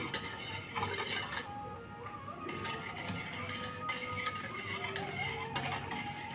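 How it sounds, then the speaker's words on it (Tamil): A tamarind drink flavoured with dry ginger powder and cardamom is stirred in a vessel, giving a continuous soft swishing with light utensil clinks, close and moderately quiet, no one speaking. "டாப்பில் நல்லா மிக்ஸ் பண்ணிக்கலாம்"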